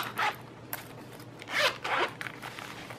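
The zipper on a pencil case is pulled open in several short rasping bursts, close and crisp, with a longer double zip in the middle and quiet handling between pulls.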